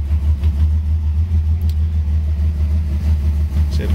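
A 1966 Chevrolet Corvair Model 500 sedan's engine idles steadily nearby, a constant low rumble with no talking.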